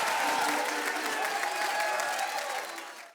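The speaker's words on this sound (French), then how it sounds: "Sous vos applaudissements!" Audience applause, a dense wash of clapping with some crowd noise, holding steady before fading out abruptly at the end.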